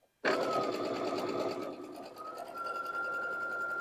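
A sewing machine runs continuously, stitching fabric pieces for quilt half-square triangles as if sewing a pillowcase, a steady close mechanical whir with a rapid needle rhythm and no pauses.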